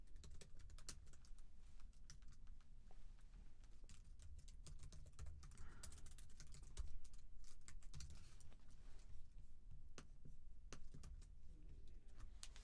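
Rapid, continuous clatter of computer keyboard typing while writing HTML, dense keystrokes over a low background rumble, with no talk.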